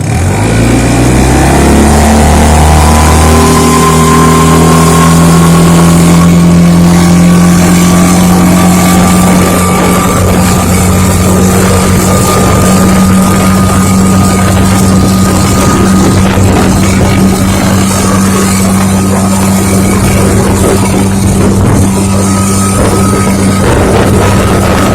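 A 15-horsepower outboard motor drives a 1436 jon boat and rises to a loud, steady drone. It holds a constant pitch for a long stretch with water rushing beneath it.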